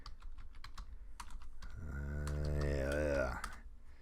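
Rapid clicking of computer-keyboard keys in a burst of typing, close and fairly clear, with a low sustained hum swelling through the middle of the stretch.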